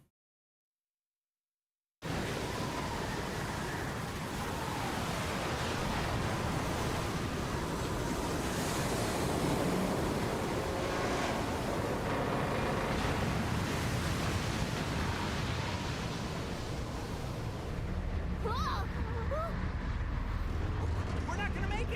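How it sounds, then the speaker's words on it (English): Heavy ocean surf crashing and roaring steadily from a video game, Lost Odyssey, starting after a brief silence and continuing as a dense, loud wash with wind-like noise, with voices faintly present. "The waves are gonna smash it to pieces!"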